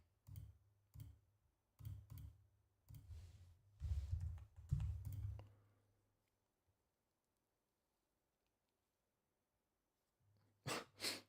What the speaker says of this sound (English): This mouse is so annoying for clicking.